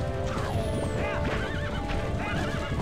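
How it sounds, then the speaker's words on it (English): A horse in the video game The Legend of Zelda: Twilight Princess lets out a loud, wavering whinny. Several rising and falling neighs sound over steady clip-clopping hooves and game ambience. "Link, get on your horse."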